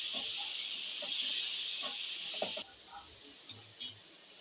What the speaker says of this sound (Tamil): இப்போ அதே கடாயில் இன்னும் கொஞ்சம் எண்ணெய் ஊற்றி 1 ஸ்பூன் எண்ணெயை ஊற்றி நம்ம கட் பண்ணி வச்சுருக்கிற வெங்காயத்தையும் போட்டு நல்லா ப்ரௌன் கலரில் வதக்கிக்கோங்க